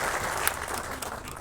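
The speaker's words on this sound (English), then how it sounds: "You may clap for him." Steady applause from an audience at a Kenyan political gathering fills the whole moment, a dense, even patter of many hands with one sharper clap standing out briefly.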